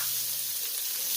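Ginger and tomato fry in a pan for chicken sinigang, giving a loud, steady, close sizzle that continues without a break and has no voices over it.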